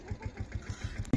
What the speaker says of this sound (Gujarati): અને ટ્રેક્ટર આવે છે